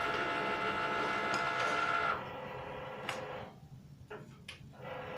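A Cricut machine cutting a card gives a mechanical whir with faint ticking that stops partway through, leaving quieter rustles and clicks of tidying nearby.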